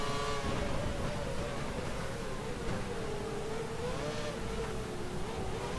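Race car engine in a PC racing game at Suzuka, a steady loud whine holding near-constant pitch with slight rises and dips as the car runs flat out, continuous throughout with no talk.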